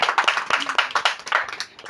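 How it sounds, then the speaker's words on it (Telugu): Audience clapping to welcome a guest at a Telugu church gathering, a steady burst of many hands applauding close by for about two seconds, fading slightly at the end, with no talking. "అందరు చప్పట్లు కొట్టి అక్కని ఆహ్వానిస్తాం."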